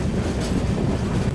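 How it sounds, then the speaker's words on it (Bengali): The Rupasi Bangla train runs along the rails in the second-sitting compartment, a loud close rumble with dense rattling, brief and steady, without any voices. "আমাদের ট্রেন নির্ধারিত সময় থেকে 5 মিনিট লেট করে ছেড়ে দিল"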